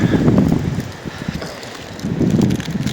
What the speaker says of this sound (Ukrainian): Дуже сильний вітер у нас і йдуть чорні хмари.